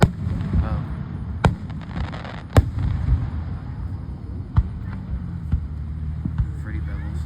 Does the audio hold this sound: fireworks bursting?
yes